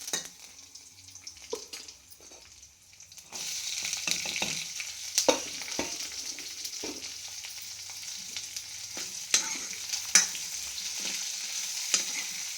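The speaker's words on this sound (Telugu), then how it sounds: "తిరమాత కాలినాక ఉల్లిపాయ వేసుకున్నాం" Chopped onion sizzles in a pan with mustard and cumin seeds for a ridge gourd curry. A steady hiss swells after a quiet start, broken by scattered clicks and stirring scrapes, with nobody speaking.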